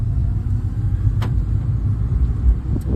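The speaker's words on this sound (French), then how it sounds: "Je vais accélérer un peu sur cette rue" A Fiat 500 Lounge's 1.2-litre 68 hp engine rumbles low and steady as it picks up speed on a street, heard from inside, with a brief faint click partway through.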